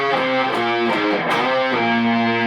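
Electric guitar plays the second half of a part from a song, a run of sustained, distorted melodic notes with slight vibrato, loud and close with no talking.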